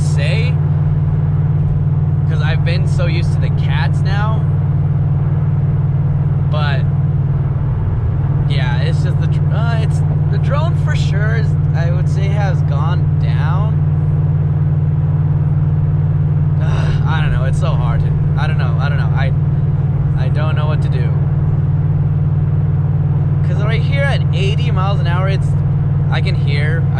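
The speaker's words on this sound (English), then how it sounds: "I don't know how people can tolerate this exhaust system on a daily basis." A loud, steady low exhaust drone from a C6 Corvette ZR1 cruising at speed, with someone talking over it throughout.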